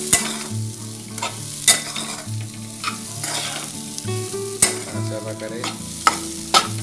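Corn kernels fry in a pan over low heat while a spoon stirs them, giving a steady sizzle broken by sharp scraping clacks at irregular intervals, with a brief spoken phrase.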